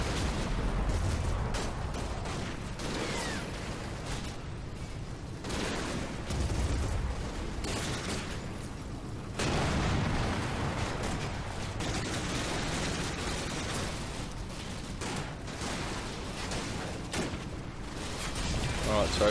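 Sustained distant gunfire and occasional explosions from the war game Combat Mission Red Thunder rumble continuously at moderate volume, with talking over the battle sounds.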